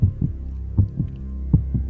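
Deep, muffled heartbeat sound effect thumping in paired beats at a steady, slightly quick rhythm, close and alone against a low hum.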